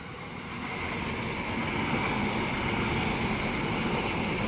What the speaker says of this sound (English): Here we have a Central via Gordon service passing platform number 1